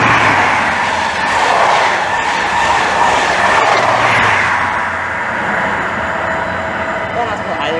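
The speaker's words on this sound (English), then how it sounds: "And the Reading to Paddington service is now departing." A Reading to Paddington passenger train pulls out of Maidenhead station on the Great Western Main Line, a loud continuous rumble with squealing wheels and rail noise, with a person talking over it.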